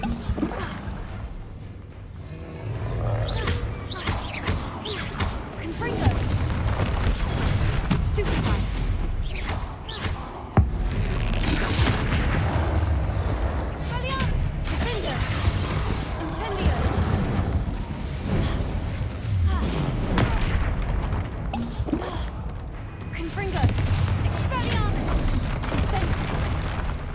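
Confringo fire-spell blasts in Hogwarts Legacy on PS5 land as repeated booming bursts among busy combat noise, with someone talking over much of the action.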